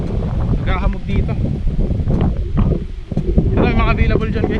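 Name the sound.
strong wind blowing at a hilltop site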